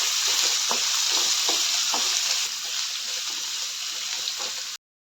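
Ivy gourd sautéing in a pan with curry leaves and chillies, a steady bright hiss of frying oil punctuated by soft scraping stir strokes, close and continuous before cutting off abruptly.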